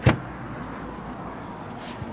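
A Vauxhall Astra 1.6 CDTi hatchback's boot lid gives one short, close clunk as it is released and lifted, then a brief quiet thud follows near the end over faint background hum.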